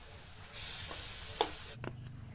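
Fried rice is stir-fried in a pan, starting with a loud burst of sizzle and then a few metallic scraping knocks as the frying fades.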